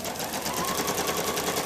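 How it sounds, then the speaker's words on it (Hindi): A Toyota sewing machine stitching a straight seam, with a steady fast mechanical whirring and needle chatter running continuously, close and even. "ये बिल्कुल स्ट्रेट सिलाई कर रहा है,"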